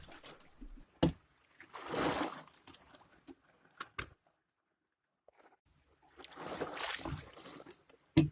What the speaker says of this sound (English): Rowing through thin ice felt really meditative.